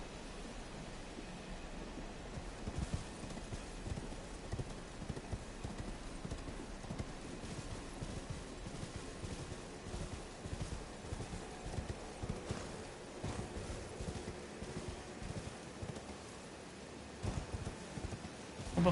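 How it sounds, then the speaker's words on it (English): Quiet, steady clip-clop of a horse's hooves in a video game, a rhythmic trotting under faint ambient noise with no talking. "It looks like I can use the horse, or I'm sorry, as Fusion puts it, the pony, to jump the wall here."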